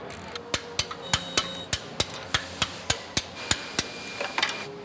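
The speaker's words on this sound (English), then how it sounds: "we're going to go ahead and torque down the nuts" A torque wrench tightening exhaust nuts on a 2022 Porsche 992 GT3 during a cat-back exhaust install: a regular series of sharp metallic clicks, about a dozen in quick succession, close and crisp over quiet background.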